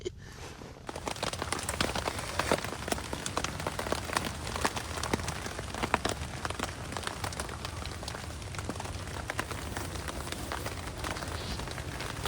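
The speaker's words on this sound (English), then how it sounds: "as you can hear, it started raining" Rain pattering steadily on a camping tent set up beside a truck, a dense, continuous close patter with scattered sharper drops, no voices.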